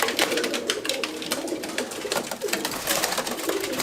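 Madrasi pigeons are let loose, their wings beating in a rapid, continuous clatter of flaps close by, loud and steady throughout.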